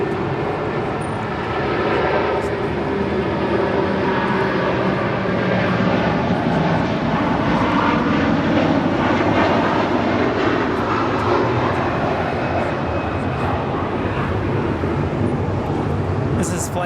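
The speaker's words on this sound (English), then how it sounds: "A330 now departing." An Air Canada Airbus A330 departs Los Angeles International Airport for Toronto, its engines a broad, loud and sustained roar that swells gradually, with voices talking over it.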